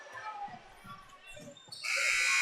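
Game clock buzzer at a high school basketball game, Hector Wildcats vs. Acorn, blaring loud and sustained at the end of the quarter after crowd noise and commentary.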